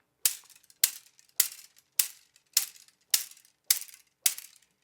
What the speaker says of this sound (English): So you just get some barbecue skewers, put some tape around one end.